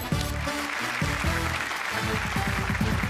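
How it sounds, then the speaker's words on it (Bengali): A studio audience on the Bengali TV game show Didi No 1 claps loudly in a dense, sustained burst of applause that fills the whole stretch, with music playing underneath. "একটা জোরে হাততালি সকলের জন্য"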